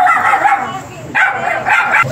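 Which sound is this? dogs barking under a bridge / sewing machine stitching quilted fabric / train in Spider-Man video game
dogs barking under a bridge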